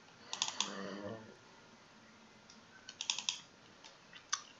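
Sharp mouse clicks sound in small clusters while saving a document on a computer, close and fairly quiet, with a soft murmur of voice briefly in between.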